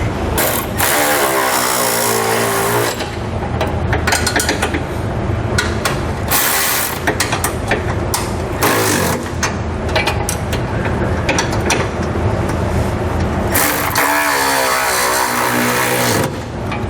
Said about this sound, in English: Go ahead and tighten those down using a 19/16 wrench.